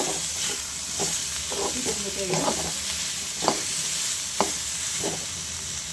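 Tomato and ivy gourd fry in a pan for chutney, with a continuous close sizzle and scattered scraping clinks from stirring.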